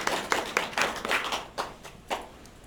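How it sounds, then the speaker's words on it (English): An audience claps for a volunteer named William, giving a short round of applause from a handful of people nearby, irregular and fairly soft, tapering off within a couple of seconds. "Round of applause for William."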